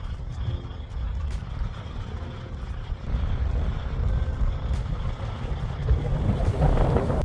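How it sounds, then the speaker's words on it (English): Strong wind buffets the microphone at a nearly empty truck stop, a constant low rumbling roar that swells slightly louder toward the end. "And this wind does not let up"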